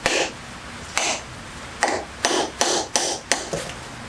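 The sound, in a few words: hammering grease seal onto wheel hub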